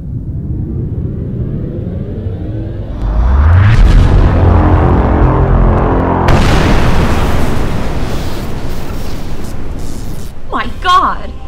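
A sci-fi movie cannon fires at a planet: a huge deep boom swells in and holds as a long roaring rumble, with a second blast layered on, loud and dense, and a short voice at the end.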